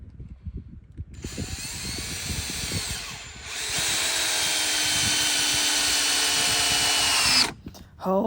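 Power drill driving new screws into a wooden board: a short pause and faint knocks, then a sustained loud whine that rises and holds for several seconds before stopping abruptly.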